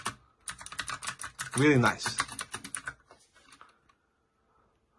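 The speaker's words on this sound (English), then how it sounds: "Typing on this keyboard feels incredibly satisfying thanks to their high quality mechanical switches." Rapid clicky keystrokes on a MageGee TypeWriter mechanical gaming keyboard with round keycaps, loud and close, running in quick bursts for about three seconds before tapering off, with brief talk over the middle.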